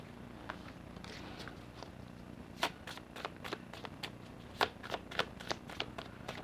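Tarot cards are shuffled by hand close by in a quiet room, a soft continuous riffle with a run of sharper snaps and flicks in the second half, with no one talking.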